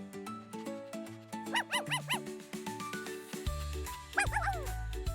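A cartoon puppy barks in a playful story sound effect, a quick series of high yips and short bow-wows over bright musical tones, followed by a final burst of barks near the end.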